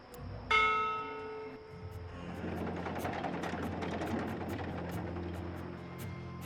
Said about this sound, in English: From what I've learned traveling on cloud ships, this is a ship's bell.